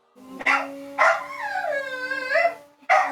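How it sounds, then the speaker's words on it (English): A dog barks twice loudly, then lets out a long wavering howl and barks again, close and clear with no talk over it. "His dog is being tortured."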